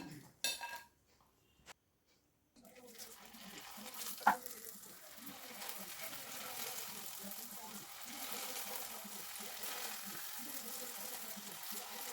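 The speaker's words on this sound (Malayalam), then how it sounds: "ഡയമണ്ട് കട്ട്സ് ഫ്രൈ ചെയ്തെടുത്തു." Diamond cuts, a sweet dough snack, deep-fry in oil with a low continuous bubbling sizzle after a few quiet, broken seconds at the start, marked by one sharp clink of metal against the pan.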